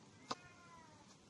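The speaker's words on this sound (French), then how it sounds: "C'est le chat de mes voisins." A neighbours' cat gives a single short meow, faint and distant against a quiet room hiss.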